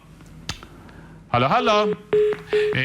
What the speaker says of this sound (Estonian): No see piiks ka nagu ei sobi meile.